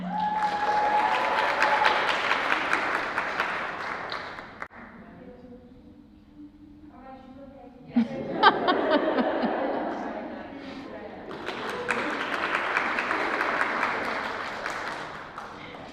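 Applause from an audience at a college communication disorders white coat ceremony, broad clapping that swells, drops away briefly around a spoken name, then returns loud and sustained with some chatter mixed in.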